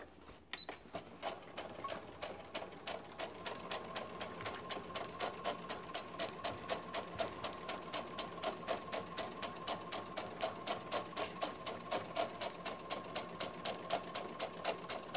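A sewing machine stitches through a skirt seam with a quick, even train of clicking stitch beats, close and steady, picking up speed after a slow start and running alone without speech.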